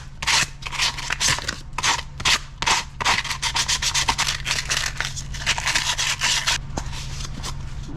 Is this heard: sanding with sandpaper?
yes